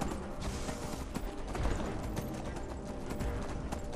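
Horse hooves clip-clop steadily in the video game Skyrim, a continuous close trot layered over a dense, busy game soundscape with no pauses.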